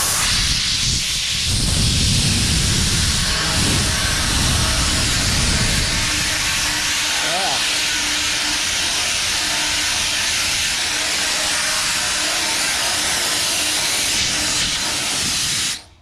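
A new portable sand blaster running continuously, a loud, steady, broadband hiss and rush of air and grit that holds for about sixteen seconds before cutting off, close up with no talking.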